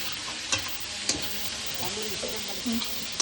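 Chana masala fries in a pan with a steady sizzle, and a utensil scrapes and clacks against the pan in a few sharp taps. Faint voices sit in the background.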